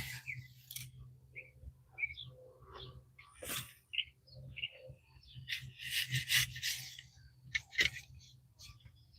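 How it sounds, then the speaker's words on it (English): Birds sing around a flower garden with dahlias, scattered bright chirps and whistles at moderate distance, mixed with intermittent talk nearby. "Listen to those beautiful birds."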